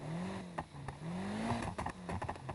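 A car from the Fast and the Furious, driven by Paul Walker, in a racing video game, its engine revving and exhaust droning with a rising and falling pitch as gears shift, moderately quiet and heard alone.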